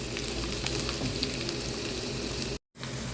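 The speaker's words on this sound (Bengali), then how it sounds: "এখন পেঁয়াজ এবং রসুন কুচিটা একটু বাদামি করে ভেজে নিব।" Chopped onion and garlic hiss and crackle in hot oil, a dense, even sizzle for lentil dal tempering, broken by a very short dropout near the end.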